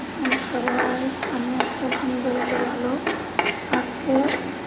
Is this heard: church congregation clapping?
no